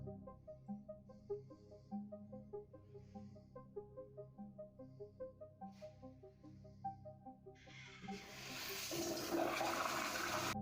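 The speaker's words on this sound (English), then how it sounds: "I saw a video of him flushing another pair of underwear down the freaking toilet." A toilet flushing with a pair of underwear in the bowl: a loud, steady rushing swirl of water surges in near the end and carries on to the close, following a stretch of quiet, rhythmic tonal background.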